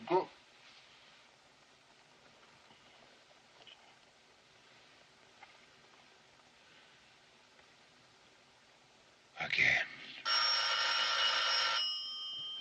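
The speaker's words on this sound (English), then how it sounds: "Telephone is ringing. Let it ring." Mostly quiet room tone with faint rustling, then a sudden burst of noise and a loud, sustained telephone ring near the end, from the 1939 film Ninotchka.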